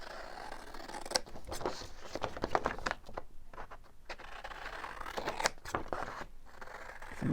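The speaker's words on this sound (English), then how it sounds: "think I'll just cut it and follow it with my scissors." Scissors snip through paper for a junk journal, a run of close, crisp cutting strokes in uneven bursts with short pauses between them.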